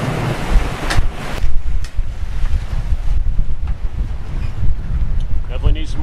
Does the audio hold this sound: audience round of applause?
no